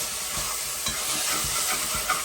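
Salted cod rougail cooking in a pot as the crust on the bottom is scraped and deglazed: a steady loud sizzle with repeated scraping stirs, no voices.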